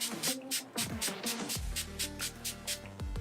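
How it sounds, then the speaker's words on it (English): Makeup setting spray in several short, breathy spray bursts in a quick rhythm, close up, over faint background music. "And then I'm going to take some setting spray."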